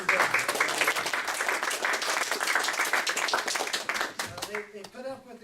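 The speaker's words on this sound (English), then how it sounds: "big round of applause" Audience at a Java user group meeting applauding, a dense wash of clapping for about four seconds that thins out, with a voice speaking near the end.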